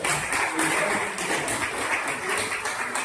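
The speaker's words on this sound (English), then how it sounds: "All of you can clap for her." Students applauding a classmate in a lecture on harmonic analysis, a moderate, continuous patter of many hands clapping at once, slightly distant and even throughout.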